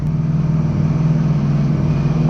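A Ducati motorcycle engine runs close and loud, a deep steady throbbing idle with a strong low rumble and no pronounced rev spikes.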